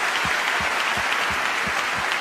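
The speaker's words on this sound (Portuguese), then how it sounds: "A ele uma salva de palmas." Congregation at a Catholic Mass applauding the Pope, a steady, full wash of many hands clapping heard close and continuous throughout the short moment.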